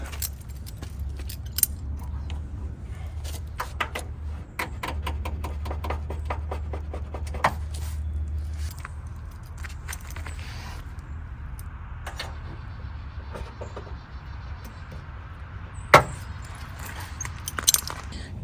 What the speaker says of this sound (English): Let's go ahead and trim these zip ties.